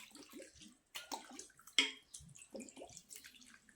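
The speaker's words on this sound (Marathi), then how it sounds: "थंड पाणी घालून घ्यायचं आहे" Cold water is poured over fresh chhena to rinse it while making rasmalai, heard as faint splashing and trickling in short irregular bursts with quiet gaps between.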